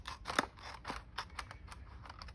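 Scissors trimming the edge of a paper envelope, a series of quiet crisp snips and rustles in quick irregular succession, close and soft with no talking.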